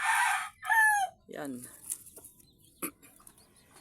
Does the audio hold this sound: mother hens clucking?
yes